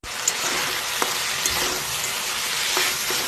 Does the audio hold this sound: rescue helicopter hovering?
no